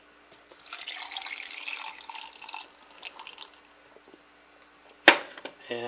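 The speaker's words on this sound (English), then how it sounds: "Gonna add some water." Tap water runs steadily into a kitchen sink or pot while a habanero hamburger pizza is being prepared, a soft rushing that swells and then fades, followed by a brief clatter near the end.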